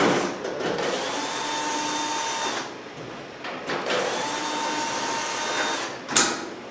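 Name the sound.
power drill with nut driver bit on Whirlpool dryer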